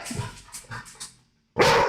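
A dog gives a series of short barks and yips at moderate distance, then a louder, close bark bursts out after a brief silence.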